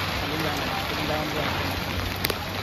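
Heavy monsoon rain pours down steadily in Nalasopara, a dense continuous hiss of water on streets already flooded, with one or two brief sharper spatters near the end.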